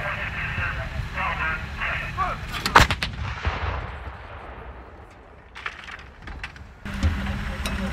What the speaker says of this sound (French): une pièce d'artillerie qui est précise, voilà, qui tire toute la gamme des munitions modernes